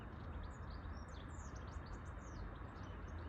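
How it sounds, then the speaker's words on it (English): Birds chirp and sing repeatedly in the background at an allotment, high bright calls scattered over a steady low rumble of outdoor noise. "Can you hear those birds?"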